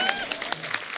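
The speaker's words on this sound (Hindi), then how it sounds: "तालियां।" Dense applause from a crowd, steady clapping filling the whole moment.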